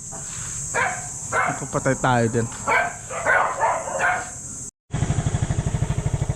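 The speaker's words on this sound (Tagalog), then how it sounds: "Ang sumalubong sa akin mga aso." Dogs barking at a visitor arriving at a rural house, a burst of loud close barks and yips while someone talks over them, then a steady rapid rhythmic buzz after a brief cutout.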